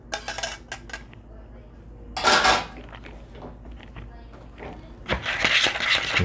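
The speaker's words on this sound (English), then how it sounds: "So we're gonna go ahead and get these things tossed around in the buffalo sauce." Quail being tossed in buffalo sauce in a bowl, with clattering bowl and utensil knocks in irregular bursts, two louder scraping clatters standing out over faint kitchen background.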